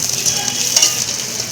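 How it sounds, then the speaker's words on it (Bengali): Garlic and onion frying in a pan, a steady bright sizzle with light stirring, close and continuous throughout a short moment. "এবার রসুন আর পেঁয়াজ দিয়ে দিলাম, এটা ভেজে নিয়ে"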